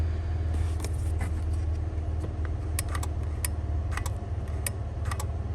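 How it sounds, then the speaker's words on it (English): A relay inside a Tekonsha Primus IQ electronic brake controller installed in a 2016 Chevrolet truck clicks faintly several times as the brake is pressed, small sharp ticks sitting over a steady low engine rumble. "you can hear a relay inside there kicking on when I push the brake manually"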